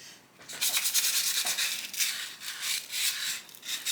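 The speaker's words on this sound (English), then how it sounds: "So while I'm stirring" JB Weld epoxy being stirred for a mid-power rocket build, a steady scraping and rubbing of the mixing stick in repeated strokes, close and moderately quiet with no talking.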